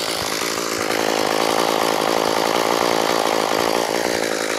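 A Craftsman 32cc straight-shaft weed trimmer engine runs steadily and loud with a buzzing two-stroke whine, its kill switch broken so it keeps going without pause.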